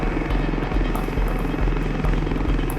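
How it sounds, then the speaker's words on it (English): Lynx and Gazelle military helicopters fly over the Iraqi desert with a loud, close rotor thump beating in a steady, even rhythm beneath a constant engine drone. "Lynx and Gazelle head side by side for the tree line,"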